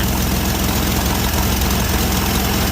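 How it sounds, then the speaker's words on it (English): The engine of a 1977 International dual cab 4x4 truck idles steadily nearby, a loud, continuous low rumble with a slight uneven chug throughout, with exhaust leaks. "Motor sounds quiet apart from exhaust leaks"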